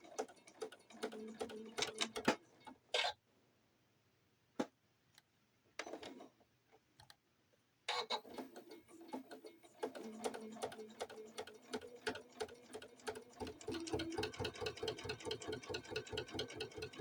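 A sewing machine stitches a welcome banner in bursts of fast, rhythmic needle ticking, with a pause of near silence midway before the stitching resumes steadily and grows louder.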